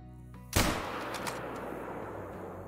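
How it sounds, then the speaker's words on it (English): A single sharp rifle shot cracks out at a wild turkey gobbler 275 yards away in the hunting game Call of the Wild, followed by a long rolling echo that fades slowly. "now we're going to go for a 275-yard shot on this gobbler here"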